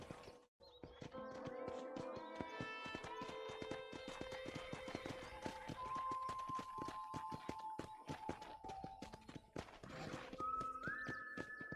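Horse hooves clip-clopping at a steady gait in the Red Dead Redemption video game, with game music tones and a neigh, the hoofbeats forming a continuous rhythmic patter.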